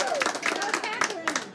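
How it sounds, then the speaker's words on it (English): An audience in an Old West ghost town show setting claps in a brief, loud burst of applause, mixed with overlapping voices and cheering. "everyone give a nice big round of applause to Catherine."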